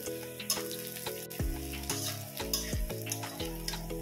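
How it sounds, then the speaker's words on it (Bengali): Frying in a pan while cooking a potato-leaf greens dish, a steady crackling sizzle with periodic scraping stirs, close and moderately loud, with no talking. "দেখুন এভাবে কিন্তু ভেজে নিয়েছি।"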